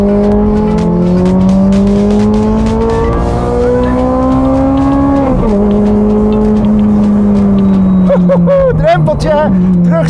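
A Ferrari F430 or 430 Scuderia engine revs loud and close, its harmonic tone climbing steadily, dipping at a brief shift, then rising again, with a voice speaking over the final seconds.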